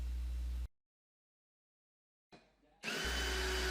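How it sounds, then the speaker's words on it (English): A power drill whirs loudly while drilling a hole in a box, cuts out into near silence for a couple of seconds, then spins up and runs again. "I'm drilling a hole here so I can add the SAE socket"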